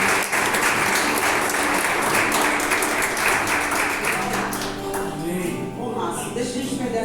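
A church congregation applauds during a Wednesday service, loud sustained clapping from many hands that gradually thins out, with voices rising underneath toward the end.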